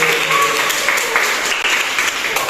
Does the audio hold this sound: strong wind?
no